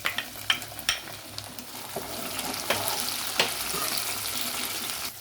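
Tomatoes frying in a pan, a steady soft sizzle under a few sharp close clinks and scrapes of a spoon early on, with no voices.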